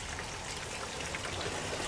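Falling water from a waterfall makes a dense, steady rushing patter, close and continuous for a brief moment with no voices.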